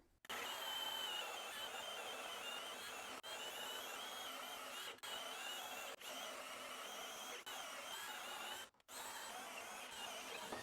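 A 12-volt Skil compact drill bores through material with a hole saw, giving a loud, close, steady whirring grind. Short pauses break the run before the motor spins up again.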